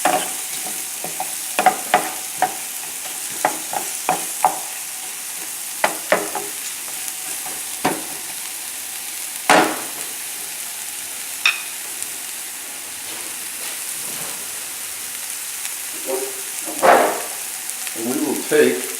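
Mushrooms fry in a pan over a relatively high flame, giving a constant sizzle broken by repeated scraping stirs and clinks of the utensil against the pan, fairly close.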